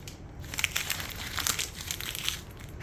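Paper tape being pulled and torn from an office adding machine in a construction field office, a close crinkling, rustling run of short paper sounds with no talking.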